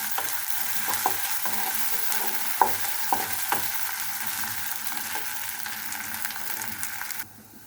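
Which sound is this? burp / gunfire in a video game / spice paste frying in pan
spice paste frying in pan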